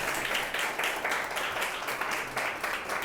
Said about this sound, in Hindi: चलो जोरदार ताली जाए शिवानी के लिए